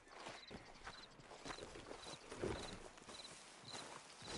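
Horse hooves walking in Red Dead Redemption, a quiet steady clip-clop at an easy pace with soft ambient noise around it.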